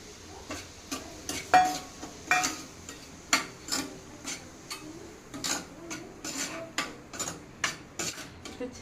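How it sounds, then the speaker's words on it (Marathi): Semolina roasting in ghee in a pan for mango sheera, heard as a series of irregular close scrapes and clinks of a spoon against the pan over a faint sizzle, with no talk. "मी हे भाजून घेते छान लालसर"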